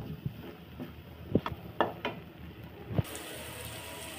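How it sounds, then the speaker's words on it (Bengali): Turmeric powder fries in a pan for chicken curry while being stirred: a faint sizzle underlies a few soft, scattered scraping knocks from the spoon, quiet and close. "এই পর্যায়ে এটা হলুদের গুঁড়ো একটু নাড়াচাড়া করতে হবে, নইলে মিক্সিং হবে না, তাছাড়া পুড়ে যাবে"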